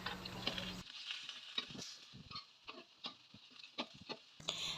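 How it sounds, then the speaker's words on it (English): Onion, garlic and lemongrass crackle and spit in hot oil, a quiet close sputter of irregular pops and light stirring ticks, fainter in the middle stretch. "Heat the oil, saute the onion, garlic, and lemongrass until fragrant."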